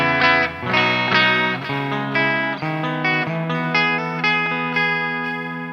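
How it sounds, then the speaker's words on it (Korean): Played through the clean Old Time preset, an Enya Inspire smart guitar picks out a steady run of chords and notes, bright and close, each attack following evenly without speech. "그 다음은 올드 타임이라는 소리인데요."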